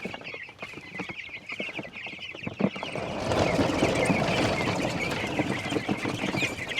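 Chickens on a small farm being moved out onto grass in a chicken tractor, with busy overlapping clucks and squawks, sparse at first and then swelling into a dense, close chorus.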